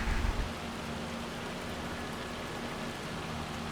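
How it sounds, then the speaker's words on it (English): Hail falls across the fields in Farming Simulator 25, a steady hiss of pelting ice that begins with a short low thump and then continues evenly and unbroken, with no talking. "Yes, look at that hail. That is horrible."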